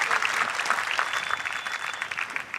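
A live crowd at the Ford Mustang reveal in downtown Detroit, with dense, steady applause and cheering that carries on through the whole moment at full volume.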